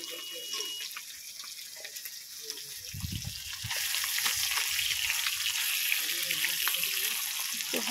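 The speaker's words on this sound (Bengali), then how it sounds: "এই দেখো মাছ ভাজা চলছে" Fish frying in hot oil starts as a faint crackle under low background noise, then rises into a louder, steady hissing sizzle with light clatter.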